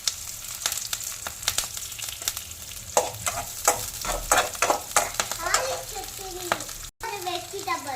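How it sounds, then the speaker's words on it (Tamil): Pirandai (adamant creeper) sautés in hot sesame oil, crackling and sizzling steadily under quick scraping strokes of a spatula, with a voice and a child's chatter heard faintly near the end. "முன்னாடி இந்த பிரண்டையை வந்து போட்டு வதக்கிக்கலாம் நல்லா."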